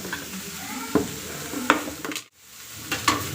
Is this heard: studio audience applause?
no